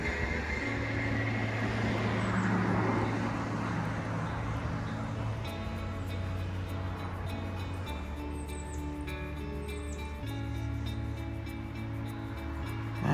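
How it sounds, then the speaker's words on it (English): Steady traffic rumble from cars passing on a busy residential street beside a garden, a continuous near-constant wash with no one talking. "This is a very busy street that we live on, so it's a little noisy with the cars when I'm out here filming"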